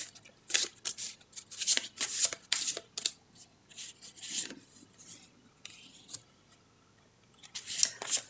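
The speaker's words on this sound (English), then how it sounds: "One is pick a tarot card to go with the chakra cards." Tarot cards are shuffled and drawn from a deck, giving a run of close, crisp riffling and sliding bursts with short pauses in between, then a final flurry of card handling.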